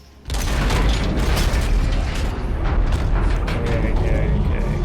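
Elevator machinery in Dead Space 3 starts with a sudden loud clank, then grinds and rumbles continuously in a heavy, booming mechanical roar.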